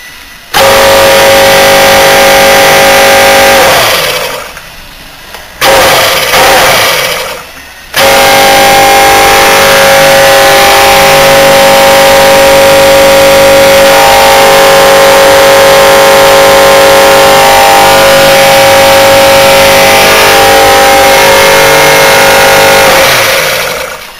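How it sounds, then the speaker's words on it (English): A Maneurop MTZ100 four-cylinder radial refrigeration compressor on 415 volt three-phase power gives a loud, steady mechanical hum with tonal whine, cut off twice by short stops before running on continuously. "Here we go, test run, MTZ100, 4-cylinder radial on 415 volt 3-phase."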